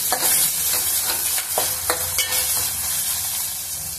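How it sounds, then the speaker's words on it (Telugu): Ginger garlic paste fries in a pan for a field-bean curry, a steady close sizzle broken by several sharp scraping strokes as it is stirred. "అల్లం వెల్లుల్లి పేస్ట్ని కొంచెం వేయించుకున్నాము."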